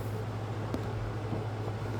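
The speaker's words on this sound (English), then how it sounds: "So I have an air conditioner running and a fan," Constant low droning hum of an air conditioner and fan running steadily in the background, with no talking.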